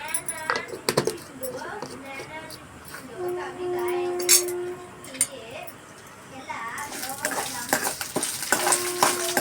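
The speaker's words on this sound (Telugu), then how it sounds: "కొంచెం పచ్చనిపప్పు, కొంచెం సాయిపప్పు కూడా వేసేసి వేగించుకుంటాం." Chana dal and urad dal fry in a pan for mint chutney, stirred with a utensil that clinks and scrapes against the metal under a soft sizzle, while a voice talks intermittently.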